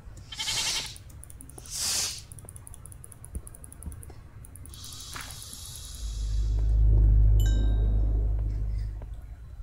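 Two short bleats from a Minecraft goat ring out a second apart, followed by scattered game clicks and a low rumbling swell of ambient noise.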